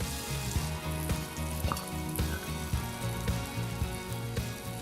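Apples and sugar sizzle and caramelise in a hot pan, a dense, continuous close sizzle with crackling pops and a bubbling undertone throughout, no voices.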